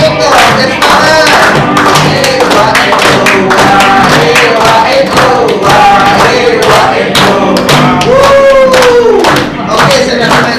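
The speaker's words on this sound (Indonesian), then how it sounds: "Tepuk tangan dong." Audience at an Indonesian motivational seminar claps in steady rhythm, the sharp hand claps running loud throughout under voices and singing.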